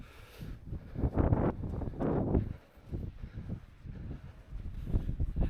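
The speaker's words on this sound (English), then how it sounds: "the weather has changed. Wet stuff starting to happen" Gusty wind in wet Welsh weather buffets the microphone, swelling into rough rushing bursts and then easing, continuous and fairly close.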